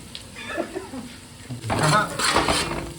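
A handful of curry leaves go into a pan of fried jeera rice, with clinks of the pan and utensil and a short stirring scrape, close and moderately loud.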